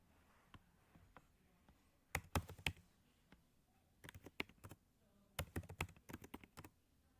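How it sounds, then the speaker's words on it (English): Fast bursts of typing on a computer keyboard, quiet and close, with three separate flurries of rapid key clicks broken by short pauses. "this is going to be manually input random characters"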